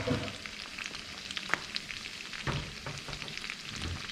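Garlic and chilies fry in a hot pan for a Thai-style Gulf shrimp dish, giving a steady close sizzle dotted with sharp pops and crackles.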